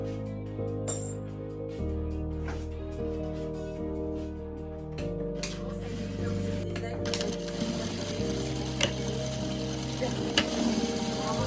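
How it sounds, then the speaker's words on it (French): Sewing machine stitching crossbody bag straps, a steady mechanical whirr with the odd clink, running continuously at close range while a person talks over it. "maintenant je vais m'attaquer à la couture des sangles pour les crossbody"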